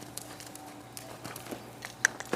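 Hooves of a horse clip-clop at a walk in an arena, soft irregular thuds fairly close, with a faint steady hum underneath.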